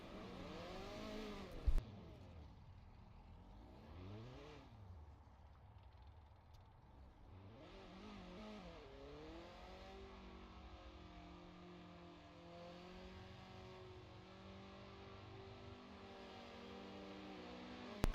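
A Formula Ford race car in a sim racing game revs up and down in sweeping repeated pitch swings while spinning donuts, with a sharp knock early on and a steady engine drone throughout.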